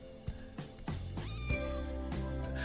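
A kitten in the video game Kendo Crush gives several short, rising meows in quick succession, near and clear over soft game music.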